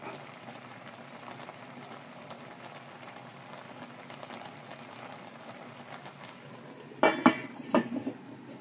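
Pot of ginataang tulingan broth simmering on a stove, with a steady bubbling hiss throughout and a few loud clinks of a utensil against the pot near the end.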